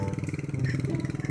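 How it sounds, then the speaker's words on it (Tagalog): A small tricycle engine, straining while towing a stalled motorcycle, chugs in a fast, steady rhythmic pulse, rattling at close range without any talking. "Parang hirap na hirap po yung tricycle na hilahin itong motor ko."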